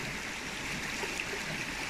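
Cold river water flows in a steady, close rushing stream, a continuous babbling wash heard alone without speech.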